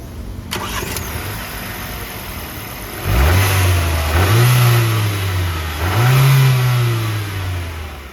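A 2024 Mercedes GLA 200 facelift SUV starts with a push-button start. The engine cranks and catches, then gives two or three loud, close revs that rise and fall before settling to idle, with no voices.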